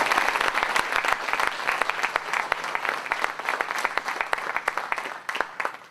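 Crowd applause for a political speaker, a dense continuous roar of many hands with sharp individual claps standing out, fairly loud and sustained throughout.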